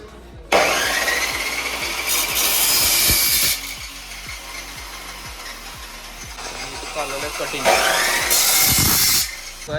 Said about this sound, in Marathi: पाईप घेण्यासाठी आम्ही आलेलो इथे कटिंग